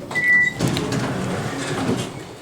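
Lexan-paneled elevator car door sliding shut in a building, a brief high whine followed by a broad rumbling slide and steady mechanical hum, fairly close and without talking.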